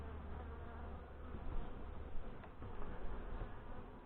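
Honey bees hum in a steady, dense drone around an opened hive during beekeeping work, a continuous close buzz with slight swells and no talk.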